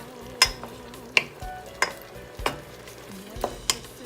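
Food sizzles as it cooks in a pan for a healthy home dinner, with a steady low fry under repeated sharp clanks and scrapes of a utensil stirring against the pan.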